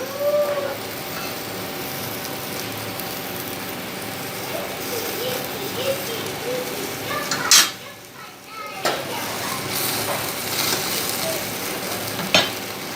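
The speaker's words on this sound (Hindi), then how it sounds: "ये हमारी रोस्ट काफ़ी हद तक फ्राई हो चुका है।" Beef roast fries in oil with a steady, close sizzle that carries throughout, broken by a few sharp utensil clinks and pan scrapes as the meat is turned; a voice speaks over it.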